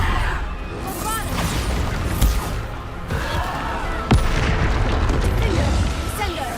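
Bombarda spell explosions in the Hogwarts Legacy video game: two loud booming blasts with crashing debris stand out over busy, constant game combat noise, about two seconds apart.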